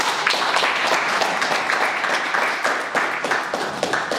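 Sustained applause and clapping from a church congregation acclaiming Jesus during a consecration service, a dense, steady wash of many hands with rhythmic accents, loud and close, no talk over it.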